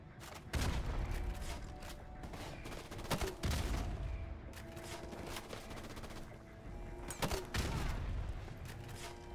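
Weapons fire in Call of Duty: Modern Warfare, a grenade launcher among them, comes in rapid, loud bursts of sharp cracks and booms that cluster in several volleys and overlap with dense gunfire.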